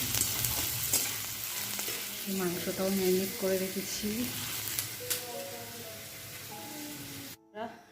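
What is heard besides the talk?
frying and stirring food in a pan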